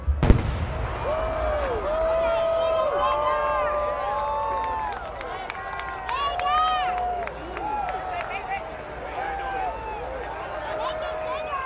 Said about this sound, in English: It wouldn't be Skywars without the exhibition shells.